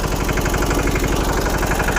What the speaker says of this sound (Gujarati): અને આને કહેવાય ટ્રેક્ટર